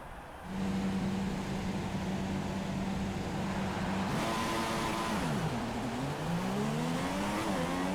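Formula 1 cars on the formation lap in the F1 2016 game at Abu Dhabi, a loud engine droning steadily then revving up and down through gears, with other cars audible around it.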